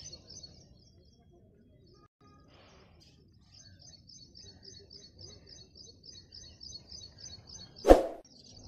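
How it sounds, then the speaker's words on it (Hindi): Small birds chirp in a steady, faint series of high repeated calls near open farm fields on a morning run, with soft footsteps and wind below and a sharp brief bump near the end. "चिड़िया की आवाज़ आ रही है"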